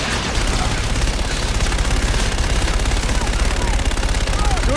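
Strafing fire from an aircraft gun run in Call of Duty Infinite Warfare: a continuous, loud, rapid stream of automatic cannon fire lasting the whole stretch, dense and rumbling, with faint radio chatter mixed underneath.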